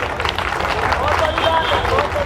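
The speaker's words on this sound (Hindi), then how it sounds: "तो आप सबके लिए एक ताली।" An audience of a few hundred guests at an open-air singing event claps in a steady, dense round of applause with crowd murmur underneath.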